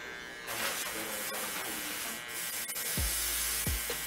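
Electric hair trimmer buzzing close up while a barber lines up a man's haircut, a steady hiss-like drone with brief low thumps near the end.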